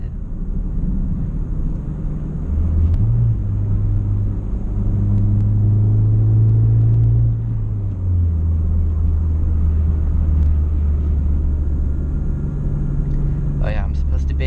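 A 2012 Honda Fit with a new clutch, Beatrush engine mount and Spoon rigid collars drones at low revs while driving, a loud steady engine rumble that rises briefly and settles, heard from inside the cabin.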